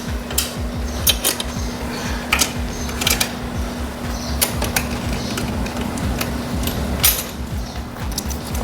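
Bolt being removed with a tool-kit spanner on a Royal Enfield Himalayan 450 motorcycle, heard as repeated close metallic clicks and ratchet-like ticks over a steady hum, without speech.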